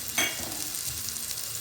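A ground ginger, garlic and coconut paste frying in a pan for green chickpea rice, a soft continuous sizzle with a single spatula scrape near the start, fairly quiet and close.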